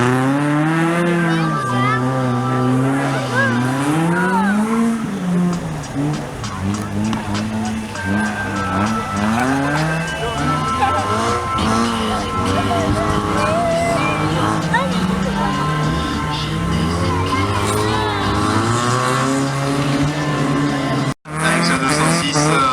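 Peugeot 206 RC rally car racing at a French Cup autocross event, its engine revving up and down repeatedly with tire noise, loud and sustained while an announcer talks over the public address.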